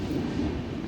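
Close steady rumble of a train running along a railway track next to a home, a continuous heavy low drone with no voices over it.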